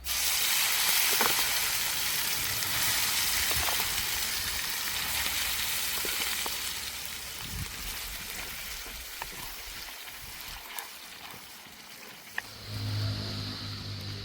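Shahi paneer gravy with red chilli hissing and sizzling loudly in hot oil, a dense steady fry with occasional pops, easing slightly toward the end.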